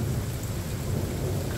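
A steady roar of heavy rain with a low rumble of thunder rolling underneath, continuous and loud with no voices, during a lightning storm at Myrtle Beach.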